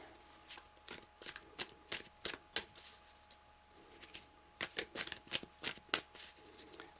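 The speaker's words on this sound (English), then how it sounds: "Okay, I'll do a couple more shuffles and then I'll choose." Tarot cards shuffled by hand in repeated crisp riffling bursts, close and fairly quiet, with short pauses between shuffles and no talking.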